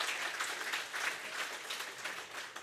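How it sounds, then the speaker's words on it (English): A large audience applauds at a municipal ceremony honouring PhD graduates, a steady dense wash of clapping that carries on without a break from start to finish, with no voices over it. "Let's give her a big round of applause."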